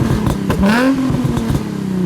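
Nissan 350Z V6 exhaust revving up with a rising engine note, followed by sharp pops and crackles on the overrun, loud and close by.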